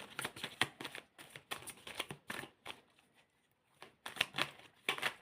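Tarot cards being shuffled by hand in bursts of crisp riffling and flicking, close and fairly quiet, with a short pause in the middle before the shuffling resumes.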